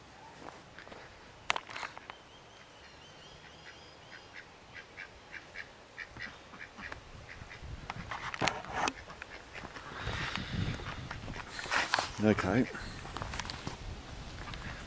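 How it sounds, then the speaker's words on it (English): Ducks quack in repeated short bursts near a chicken pen, with footsteps and rustling moving around outdoors. Someone talks over the birds. "First of all, check these guys out. Hey, what a tough life it is for a duck."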